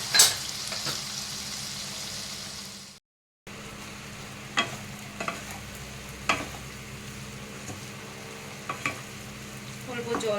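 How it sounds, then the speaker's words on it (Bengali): Pointed gourd and prawns fry in a pan over low gas with a soft, continuous sizzle, broken by a brief silence and by scattered scraping clicks of stirring. "গ্যাসটা কমিয়ে 2 মিনিট একটু ভেজে নেব।"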